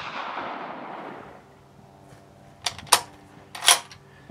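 Springfield 1903A4 rifle fired at an outdoor range: two or three sharp, loud reports in quick succession after a quiet pause, each with a brief decaying tail.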